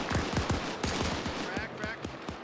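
Rapid volleys of laser pistol and blaster fire in a video game battle, sharp repeated zaps in quick irregular bursts over a dense, noisy backdrop.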